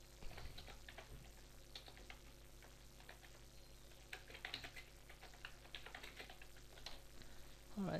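Quiet clicking of keys on a computer keyboard, irregular bursts of taps spread across the stretch against a faint steady background hum, with no voices.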